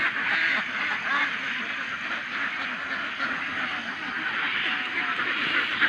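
A flock of domestic ducks kept on a farm quacks steadily and busily throughout, a dense continuous chorus close by with no talk over it.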